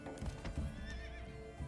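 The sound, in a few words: horse in stable, from the video game Manor Lords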